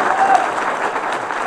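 Audience in a hall breaking into steady applause at a community gathering, a dense sustained clapping wash with crowd noise and a voice speaking over it.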